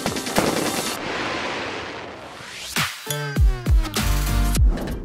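A fireworks show at a tulip festival in Korea, with loud booming bursts and crackling, whistling pops following one another in quick succession, fairly close.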